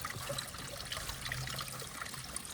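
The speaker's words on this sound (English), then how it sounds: "he's letting the water fill up one Nalgene" Faint stream water trickles steadily into a Nalgene bottle along a mountain trail at Standing Indian Mountain, a soft continuous dribble with no voices.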